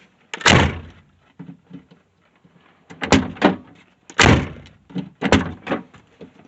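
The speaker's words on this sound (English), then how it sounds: "The door sure closes a whole lot better too." The driver's door of a 1997 Subaru, just back from a window repair, closes with several loud, solid thuds. Four or five separate slams ring out close by, with quieter rattles and clicks between them.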